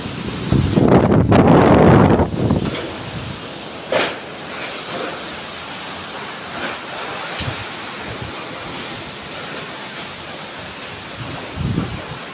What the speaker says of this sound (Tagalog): Lakas ng bagyo guys.